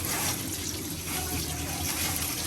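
Pulao rice being washed in water, a dense, close sloshing and rushing of water that continues for a couple of seconds with no break.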